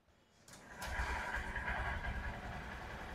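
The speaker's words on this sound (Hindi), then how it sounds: "बाइक को आप जैसे स्टार्ट करते हैं बिल्कुल भी आवाज नहीं करती है" A Honda SP 125 motorcycle with a quiet silent-starter system fires up with barely any cranking noise, then settles into a low, steady idle rumble, faint and close.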